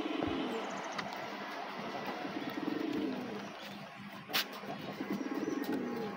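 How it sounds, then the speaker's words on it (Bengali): Tufted Bombay pigeons coo softly in repeated low, rolling phrases from a loft, with one brief sharp noise partway through. "যে বোম্বাই কবুতর, টুপাওয়ালা অরিজিনাল বোম্বাই"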